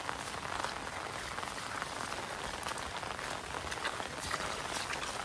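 Steady rain pours down onto a surface in a dense, even hiss of drops, continuous and fairly close throughout, with no voices.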